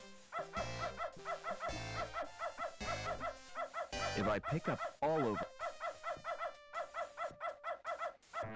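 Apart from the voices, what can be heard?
dog barking in the video game Beneath a Steel Sky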